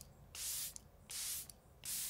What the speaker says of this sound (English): This is a phenomenal setting spray. So I'm going to thoroughly coat my entire face with this and let this dry down.